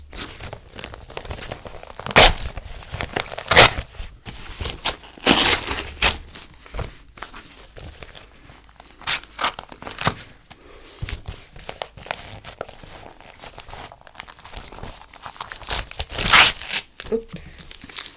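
Catalogue paper is torn and crumpled in sharp, irregular rips and crinkles, close up, with pauses between bursts and some talking.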